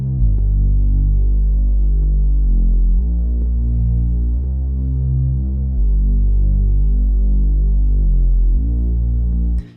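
Layered mid and sub bass synth droning loud and continuous, a deep heavy sub under buzzy mid harmonics, shifting pitch every couple of seconds in a slow pattern, with no voice.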